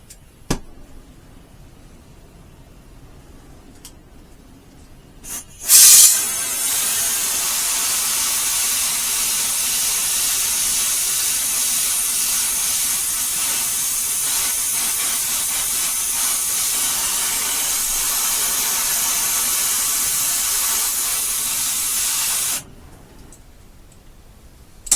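Strong wind blowing hard outdoors, a loud steady roaring hiss that starts abruptly after a few seconds of near quiet, holds for about seventeen seconds, then cuts off.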